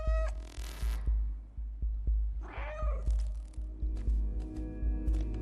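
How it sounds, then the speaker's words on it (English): A cat in the video game Stray meows twice, short and fairly close, over a steady rhythmic thumping beat with scattered clicks and a squishy sound in between. "the meow almost acts as a little bit of like a hint button"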